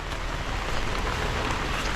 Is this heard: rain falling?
yes